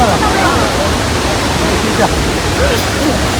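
Athirappilly waterfall pours with a dense, loud, continuous roar of rushing water, close by, with faint voices of visitors mixed into the noise.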